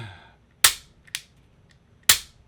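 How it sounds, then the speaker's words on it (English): Sig P226 Legion pistol fired in quick succession, three sharp, loud gunshots close by, the second one fainter, with brief silence between the reports and a voice at the start. "I'm gonna shoot so fast with this gun."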